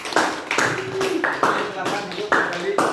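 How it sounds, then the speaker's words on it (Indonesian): A class of schoolchildren claps in several short bursts, loud and close, with voices mixed in. "Oke, kasih tepuk tangan."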